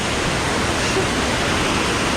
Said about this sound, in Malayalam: അടിപൊളിയൊരു വെള്ളച്ചാട്ടമുണ്ട്